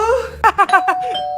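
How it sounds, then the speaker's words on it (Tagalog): A bright two-tone ding-dong chime rings out, followed by a few quick repeated tones that fade with a lingering ring. "May nag-doorbell?"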